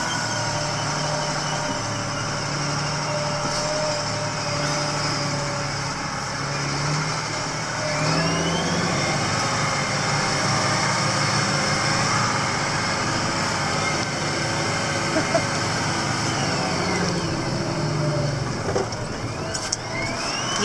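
A John Deere pickup engine hums and swells as the throttle is pressed, a close, steady motor drone with rising revs in the middle stretch, no one speaking over it.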